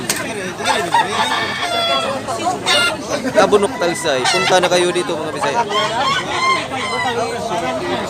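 Roosters crow and hens cluck among the birds for sale at a busy chicken market in Tabunok, Talisay, Cebu, with the crowing rising repeatedly through steady nearby chatter and someone talking over the noise.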